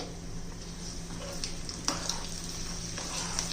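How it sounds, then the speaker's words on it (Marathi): Garlic frying gently over a low gas flame for onion chutney, a soft, steady sizzle with occasional stirring clinks and light pops, faint and close. "खमंग तळून झाले पाहिजे असे खरपूस झाले पाहिजे आतून त्यामुळं मंद गॅसवरच करायचं आहे"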